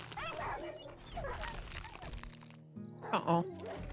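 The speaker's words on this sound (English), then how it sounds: "There's a couple wolves out here." Wolves barking and yipping in the survival video game 7 Days to Die, several short barks and whimpers mixed with game sounds, with people talking over them.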